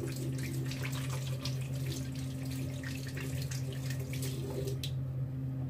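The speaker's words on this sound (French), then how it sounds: "Je me rince les mains." Hands rinsed under a running tap at a sink, a steady close rush of faucet water with faint splashing throughout, stopping abruptly just before the end.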